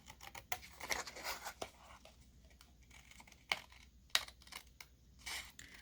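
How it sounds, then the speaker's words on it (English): Paper being cut out for a junk journal: soft, quiet snips and light rustling of paper close by, in irregular bursts with no talk. "I'm just going to cut that out."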